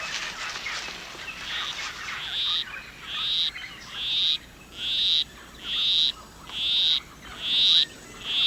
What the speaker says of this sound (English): A male poison arrow frog is courting a female. With his monotonous song, he will try to entice her to follow him